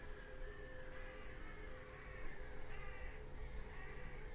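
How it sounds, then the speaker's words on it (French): Repeated crow-like caws from birds in the Legend of Grimrock 2 game, sounding at a moderate distance over a steady ambient hum, several calls overlapping across the stretch. "C'est quoi tous ces oiseaux là?"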